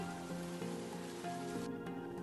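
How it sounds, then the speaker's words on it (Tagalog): Steady heavy rain pours down, a continuous hiss of drops with a faint background hum, no voices. "At nagsimula ng bumuhos ang malakas na ulan."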